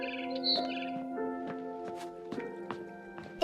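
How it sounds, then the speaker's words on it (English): A barn swallow in the game What Remains of Edith Finch chirps outside a window in short, scattered tweets over a soft musical backdrop, with faint footstep-like taps. "It was a barn swallow going back to her nest."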